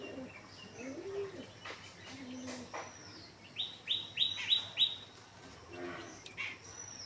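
Pigeons in a home loft, soft low coos and a quick run of bright repeated chirps, with scattered fluttering and handling noises at close range and no talking.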